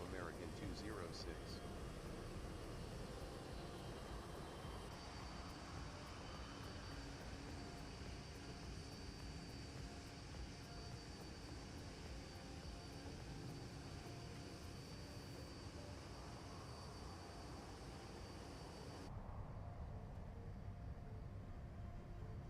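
A jet airliner taxis toward the runway at an airport, its steady, loud engine roar continuing without a break before the tone drops off near the end.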